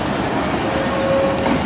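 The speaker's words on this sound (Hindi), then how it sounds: "16 डाउन भी अपनी आखिरी मंजिल कराची कैंट रेलवे स्टेशन की तरफ रवाना हो रही है" The 16 Down Karachi Express leaves toward Karachi Cantt station in flood-hit Sindh, its steady, close rumble of rolling wheels and rattling coaches holding at one loud level throughout.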